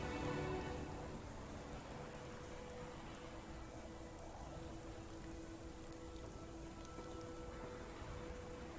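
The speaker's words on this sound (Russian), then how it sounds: "Дождь не заканчивается," Steady rainfall in the video game Frostpunk patters continuously as an even wash of drops on surfaces, moderately quiet and unbroken, with no speech.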